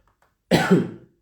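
A single harsh cough, loud and close, lasting about half a second after a brief silence, trailing off quickly.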